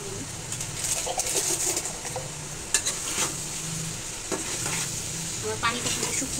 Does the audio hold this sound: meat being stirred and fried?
yes